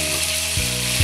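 Salted chicken frying in a pan, a loud, close sizzle over a short moment with a slight surge near the end.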